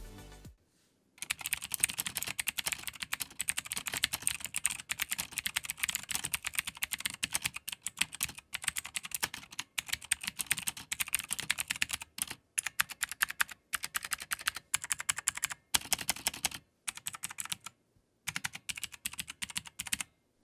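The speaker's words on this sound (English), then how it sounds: "I was pressing a bunch of keys for testing anti-ghosting" Keys being pressed on a Motospeed Inflictor CK104 RGB gaming keyboard, rapid dense clicking and clacking in close, loud bursts with brief silent gaps between runs of typing.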